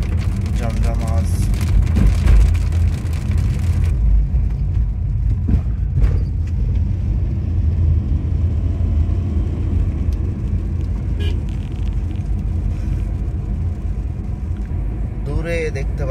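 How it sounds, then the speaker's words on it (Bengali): Rain drumming on a car driving along Uttara Diabari Road, a loud, constant wash of rain and road rumble mixed with engine noise throughout, heard from inside the vehicle. "বৃষ্টি শুরু হয়ে গেল"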